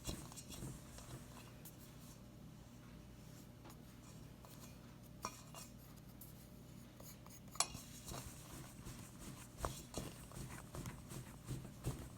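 A metal pastry blender chops and scrapes through dry, powdery dough mixture in a bowl, giving soft irregular scraping with occasional sharp clicks against the bowl, quiet and close.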